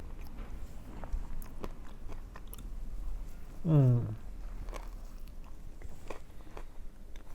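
Bites and chewing of a homemade Lebanese falafel, soft crunchy mouth sounds with a brief louder swallow-like burst midway, heard close over steady low background hum.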